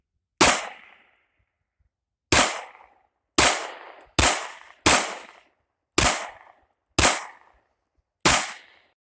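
Eight sharp pistol shots from a Polymer 80 PFC9 ring out at an outdoor range, spaced irregularly with short pauses between, each a loud close crack with a quick decaying tail.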